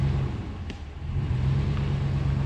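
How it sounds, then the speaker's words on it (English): A RAM 1500 Hemi truck in 4x4 low strains to pull a heavy log, a deep steady engine rumble rising slightly under more throttle, close and continuous, with a brief faint tire skid. "I did have to give her a little more throttle and we had a little bit of a tire skid there"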